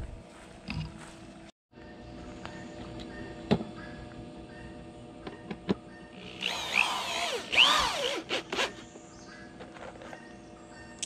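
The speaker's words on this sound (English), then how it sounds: "So I'm screwing my base down right now." A power driver screws a wooden base down for a pitcher pump over an existing well, with a low background hum. Short faint whirring bursts come first, then a louder, longer run of driving near the end.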